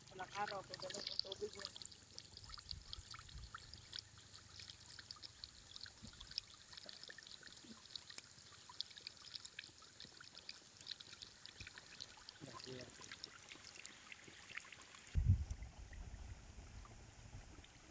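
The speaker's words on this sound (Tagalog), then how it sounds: "ganyang kalakas yung solar pump natin" Water pours and gushes steadily from a solar pump outlet in a vegetable garden, a quiet continuous rush with a soft thump near the end.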